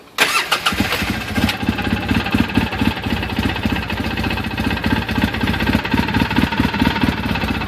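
A 2008 Polaris RZR off-road vehicle's engine cranks and catches after a brief click, then settles into a loud, rapid, chugging idle that pulses steadily close by.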